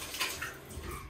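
Running water splashing steadily into a basin while a beard is rinsed for washing, close and moderately loud with no voices, lasting about a second.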